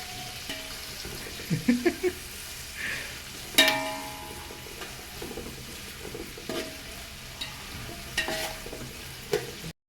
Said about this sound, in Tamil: இப்படி பொன்னிறமாக வறுத்ததுக்கப்புறம் இப்போ நம்ம பண்ணோம் நல்லா வதக்குனதுக்கப்புறம்